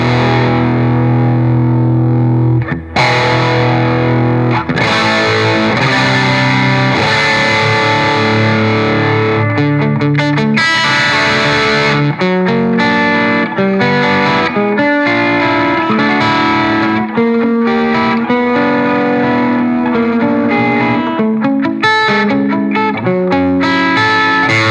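An electric guitar runs through a Victory MK overdrive pedal, giving a distorted, driven tone. Sustained chords and single-note lines play loud and continuous for the whole stretch, with no talk.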